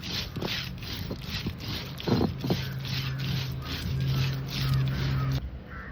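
A kitchen mixer grinder whirs steadily up close as crab masala is ground together with fennel seeds, a loud continuous churning hum with small rattling knocks.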